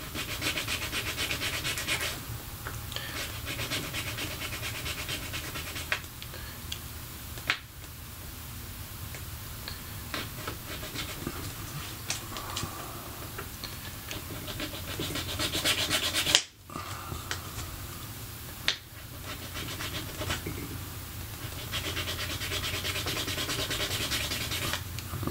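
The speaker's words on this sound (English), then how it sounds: "I take a file and I score it right underneath the light" A small metal file rasps steadily around an N scale model dwarf signal just under its light, a soft continuous scraping close up with brief pauses between strokes and no speech.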